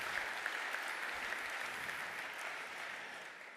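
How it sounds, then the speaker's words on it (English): An audience claps steadily at a talk on defending digital futures and human resilience; the applause is soft and a little distant, with no voices over it, and it fades slightly toward the end. "So a huge round of applause for."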